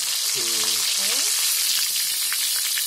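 Prawns fry in hot oil with a dense, steady hiss and faint crackles close by, and a brief faint voice-like tone near the start.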